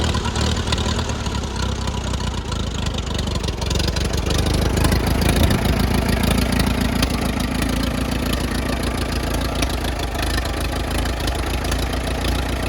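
A 1953 Allis Chalmers WD tractor engine runs steadily at idle, a loud, close, rough chugging rumble with a slightly uneven beat that continues for the whole stretch.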